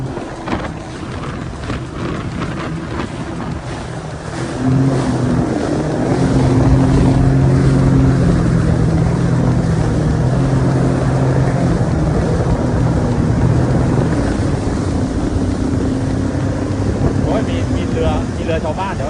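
A boat motor drones steadily on the Tha Chin River at Nakhon Chai Si, growing louder after a few seconds and holding a continuous hum with wind and water noise, while voices speak faintly beneath it.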